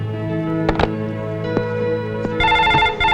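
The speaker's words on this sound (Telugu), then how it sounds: "ప్రొద్దున్నుంచి ఫోన్ మోగి మోగి విసుగు తెప్పిస్తుంది" A landline telephone rings at home in a Telugu film scene, a bright trilling bell heard up close, with a few sharp knocks and thumps over a steady background before the ring grows louder near the end.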